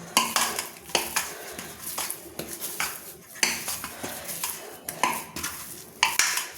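Flour dough being worked by hand with a little white oil in a bowl while preparing pea kachori, giving irregular soft slaps, scrapes and light clinks in uneven bursts throughout, close and fairly quiet, with no talk.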